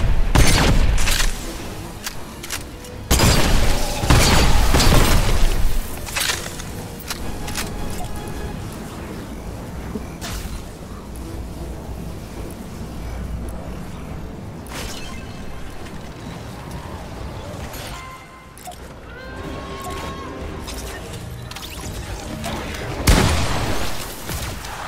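A shotgun fires at husks in a video game, heavy booming blasts repeating across the scene with loud bursts near the start and end and a rumbling, busy game backdrop between them.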